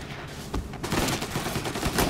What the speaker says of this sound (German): Wenn du nicht den Kopf triffst, brauchen die immer 4 Schüsse.